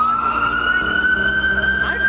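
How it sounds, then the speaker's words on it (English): A police car siren wails on a busy Toronto street, a loud, close, steady high tone that holds for the whole stretch over traffic rumble. "That's a police car that's around in Toronto."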